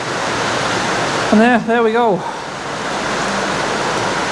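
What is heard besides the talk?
heavy rain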